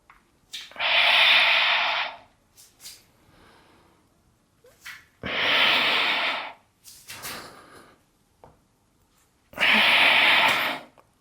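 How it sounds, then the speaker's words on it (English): Deep, forceful breaths during a hip-releasing exercise for lower back pain: three long, loud, close exhalations, each lasting about a second and a half, separated by quieter inhalations and pauses. "Breathing in. And exhale."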